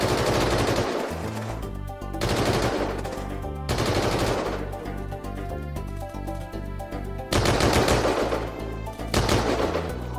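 Rapid automatic gunfire rattles in the video game Unturned, several dense bursts of shots over a loud, continuous background of in-game noise.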